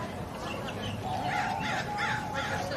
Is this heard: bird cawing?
yes